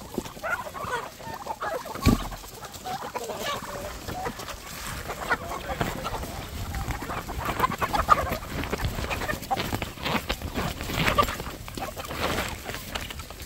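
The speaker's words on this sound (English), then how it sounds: "That's one of my oldest roosters, dude." Chickens and roosters on a backyard flock cluck and squawk in irregular bursts, some close and some farther off, with a sharp sound near the start and scattered outdoor noise throughout.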